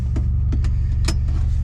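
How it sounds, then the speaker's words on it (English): A Nissan Navara's VG30 engine idles steadily just after starting, a low constant rumble with a few light clicks and taps on top. "car started again, that's always a good sign."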